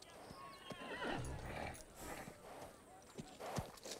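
A wild mustang stallion from an animated western film neighs loudly with clip-clopping hooves, set against dramatic background sound and some voice.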